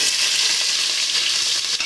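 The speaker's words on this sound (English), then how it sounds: "To fry our onions for 2 minutes before we add in the next ingredient" Onions frying in a pot for a beans and yam porridge, giving a steady, close, broadband sizzle that holds evenly throughout with no talking.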